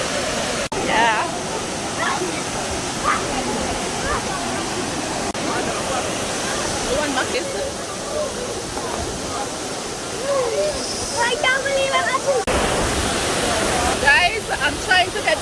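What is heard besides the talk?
waterfall in Panama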